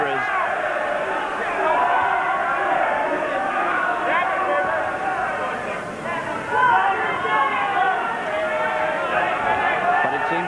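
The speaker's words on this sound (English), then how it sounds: "this crowd now singing its encouragement" Boxing arena crowd at a Jeff Harding vs Dennis Andries title fight singing in unison for Andries, a broad sustained roar of massed voices with a commentator talking over it.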